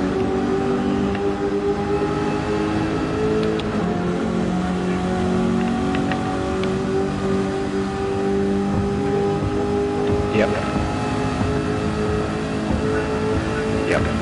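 Dodge Challenger Hellcat V8 engine in a racing video game: a loud, steady, deep engine drone that holds high revs with slight pitch changes, with talk faintly under it.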